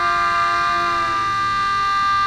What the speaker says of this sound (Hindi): 8:52 पर सायरन बजाकर 1 मिनट की खामोशी इख्तियार की गई